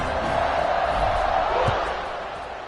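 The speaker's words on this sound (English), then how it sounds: "this crowd is buzzing after that last score" Steady stadium crowd roar in the NCAA 26 college football video game after a touchdown, a dense continuous buzz that eases slightly toward the end, with faint voices mixed in.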